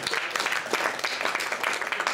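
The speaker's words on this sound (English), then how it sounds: "Give her a big round of applause." Applause from a small audience at a close-up magic competition, a brief burst of moderately faint clapping heard from a short distance.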